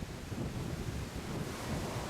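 Rough sea swells heard from a cruise ship crossing the Columbia River Bar off Astoria, Oregon: a steady, dense wash of surf with wind buffeting the microphone, continuous and without voices.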